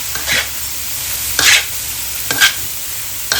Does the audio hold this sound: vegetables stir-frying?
yes